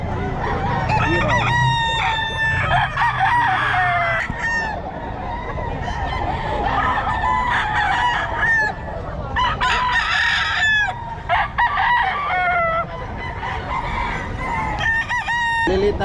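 Several roosters crow repeatedly at a Filipino gamefowl market in Pampanga, loud and close with overlapping calls and clucking throughout amid busy background chatter.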